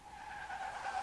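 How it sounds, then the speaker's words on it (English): Car tires skidding in a crash within the VR zombie game SURV1V3: a sustained, tonal screech that holds steady and swells slightly toward the end, loud and alone with no voices. "There was a car accident."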